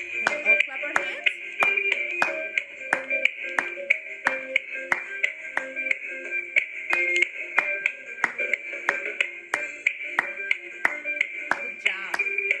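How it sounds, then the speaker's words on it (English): Children clap their hands in a steady, even beat, about two claps per second, for over twelve seconds, with a sustained musical tone running underneath. "Can we all clap our hands?"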